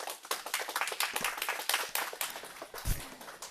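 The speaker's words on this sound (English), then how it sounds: "please, no clapping and no responses as we're going through this" Scattered audience clapping in a legislative committee hearing room, faint and somewhat distant, a quick run of claps that peters out after a few seconds.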